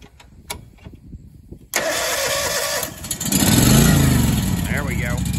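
A new farm machine's engine is started with a key, cranking briefly and then catching into a loud, rough idle that revs up and settles. People talk before and during the start.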